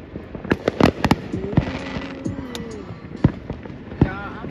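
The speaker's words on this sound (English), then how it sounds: "Pretty fireworks." Fireworks at a ribfest, sharp bangs and crackles bursting irregularly, some loud and close and others fainter, with a whistling rising shell in between and people talking and reacting underneath.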